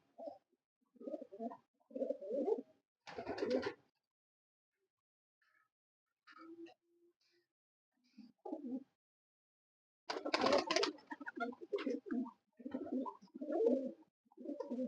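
Breeder pigeons coo in repeated soft, throaty phrases with pauses between them, close by, with a couple of louder fluttery bursts in between.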